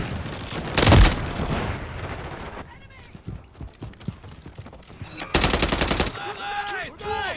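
Gunfire in Call of Duty: Modern Warfare III, with bursts of automatic fire and single loud shots breaking in between quieter stretches, plus game effects and brief voice callouts in the mix.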